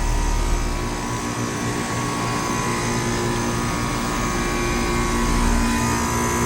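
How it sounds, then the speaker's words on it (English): A Bryant Preferred Series 4-ton air conditioner from 2020 runs outdoors in 107-degree heat, its compressor giving a loud, steady droning hum with a constant fan rush throughout. "I think the compressor is louder than it used to be."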